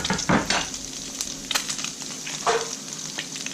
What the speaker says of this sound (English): I'm going to add, first of all, 2 cloves of garlic that I've finely chopped